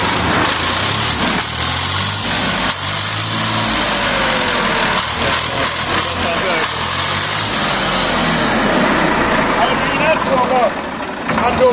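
A 1999 model tractor engine runs at close range in a loud, continuous rumble with some revving, while people talk over it.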